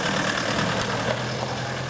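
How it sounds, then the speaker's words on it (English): A car approaches on a country road where horses and dogs wait at the roadside, its steady engine drone loud and continuous throughout with no voices. "here comes the car"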